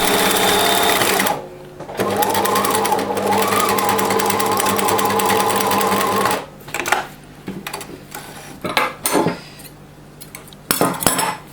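Sewing machine running steadily while stitching a homemade fabric face mask, a loud continuous motor whir for several seconds, then stopping and giving way to short bursts of stitching and handling noises.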